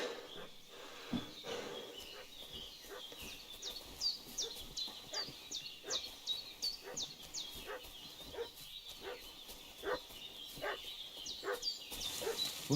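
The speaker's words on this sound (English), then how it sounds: "What's that dog making such a fuss about?" A dog in the medieval role-playing game Kingdom Come: Deliverance 2 barks repeatedly at a distance, sharp yelps recurring in an uneven rhythm over outdoor ambience with birdsong.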